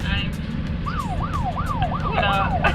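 A boat's anchor alarm, a repeating electronic warble, rises and falls several times in steady cycles over a constant low engine rumble.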